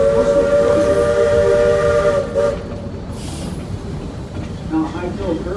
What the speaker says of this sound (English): Warning signal for employees that people are coming into a curve that comes to high fill